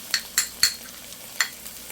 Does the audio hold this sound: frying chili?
yes